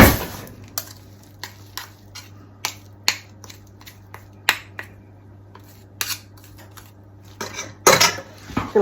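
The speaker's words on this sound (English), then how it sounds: "It's a very sticky batter. I'll use a smaller spoon," A spoon works through a sticky apple cake batter for a nutty apple cake, making a string of sharp clicks and scrapes against the bowl at an irregular rhythm, close and clear, with a low steady hum underneath.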